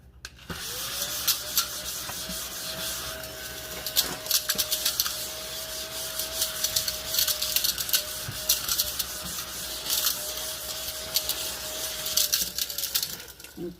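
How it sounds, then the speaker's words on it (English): A small glitter vacuum runs close by, holding a steady thin whine while it sucks up loose glitter, with faint scratchy rubbing and a few clicks mixed in. "glitter vac"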